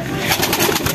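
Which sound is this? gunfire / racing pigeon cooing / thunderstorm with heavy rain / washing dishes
racing pigeon cooing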